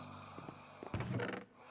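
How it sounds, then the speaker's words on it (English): A Minecraft villager snores in the video game, one short snore rising to a rough, buzzing peak and then fading, close and fairly quiet over steady background music, with no talking. "What are you snoring over here for?"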